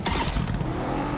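A vehicle engine starting and revving in PUBG Mobile as a player gets in, a loud broadband engine roar that fills the moment without pause, close and alone.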